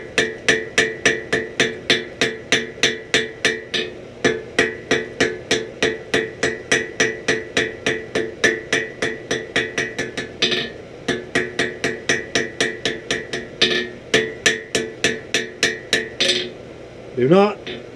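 A hammer beats a forge weld at welding heat, ringing metallic strikes in a fast steady rhythm, roughly two per second, with a few brief pauses to reposition, close and clear.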